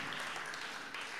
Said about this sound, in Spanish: fuerte el aplauso para el proyecto Mis Añoranzas de la institución educativa La Reparación